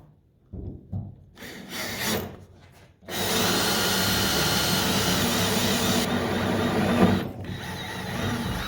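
Power drill boring a hole for a self-tapping screw into the wooden section of a Willys MB Jeep, starting with a few short bursts, then a loud, steady, grinding whir that runs for about six seconds.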